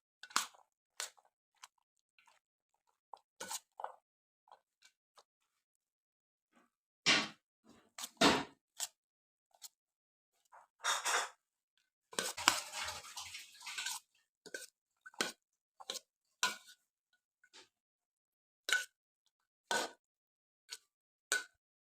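Chana chaat being stirred and mixed with chopped cucumber, coriander, mint and green chilli, giving scattered soft clinks and wet squelching scrapes in irregular bursts, close by with no talking.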